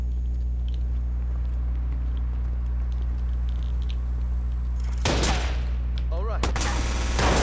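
Sniper rifle fire in Watch Dogs rings out as sharp loud cracks near the end, after a long stretch of steady humming game ambience, with a second burst of shots and clatter following.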